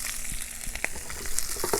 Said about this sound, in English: our oil hot and pop the mustard seeds. Once they start popping,